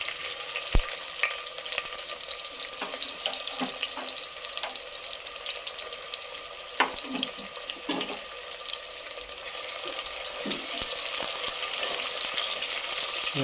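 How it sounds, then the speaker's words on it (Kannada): Onions fry in hot oil for egg biryani, giving a loud, continuous sizzle with scattered pops and scrapes of stirring throughout. "ಈಗ ಎಣ್ಣೆ ಕಾದ್ಮೇಲೆ ಈಗ ಅದ್ರ ಜೊತೆ ಈರುಳ್ಳಿ ಹಾಕ್ತಾಯಿದ್ದೀವಿ"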